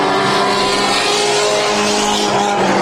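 Mini stock race cars scream past on the Bakersfield Speedway oval, a loud continuous roar of several engines at full throttle with overlapping rising and falling tones, close by and without talk.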